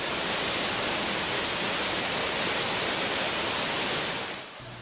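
A waterfall near a road in temperate Dalat, Vietnam, roars as a steady broadband wash of falling water, uniform and unbroken before fading out at the end.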